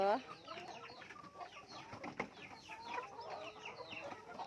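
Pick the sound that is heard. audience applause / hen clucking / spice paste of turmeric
hen clucking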